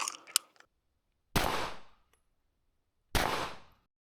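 Two loud single pistol shots from an open-class competition handgun fitted with a compensator, spaced well apart, each a sharp crack with a ringing decay, following a few faint clicks and clanks at the start.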